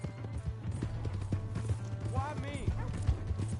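Horse hooves clip-clopping at a steady rhythm in the video game Red Dead Redemption 2, close and continuous, with a brief whinny and voices talking over the galloping.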